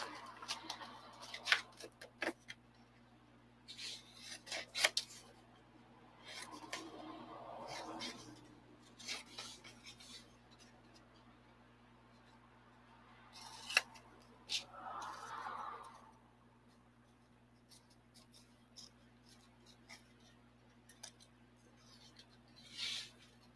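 Scissors cutting a marked pattern piece out of fabric, soft intermittent snips and paper-like rustles scattered through quiet stretches, close but faint, with brief murmured speech in places.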